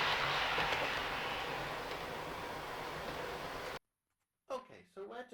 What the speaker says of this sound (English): let's not waste any more time with this beautiful train of ours here. Once it disappears into the tunnel